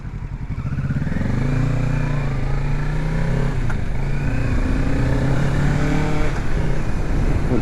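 A Chinese-made motorcycle accelerates nearby, its engine rising in pitch through a loud, steady, buzzing pull with mechanical clatter underneath.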